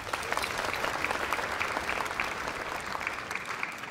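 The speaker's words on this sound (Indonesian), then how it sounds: "Tepuk tangan buat Iwan." An audience claps for a young would-be magician at a comedy magic show, a steady, even wash of applause for a few seconds.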